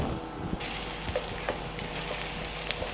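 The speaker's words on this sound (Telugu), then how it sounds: "పచ్చిమిరపకాయ ఒక 2-3 ఇట్లానే వేయించుకుంటే" Two or three green chillies frying in a pan for an egg and tamarind-leaf curry, a steady close sizzle with faint crackles throughout, no talk.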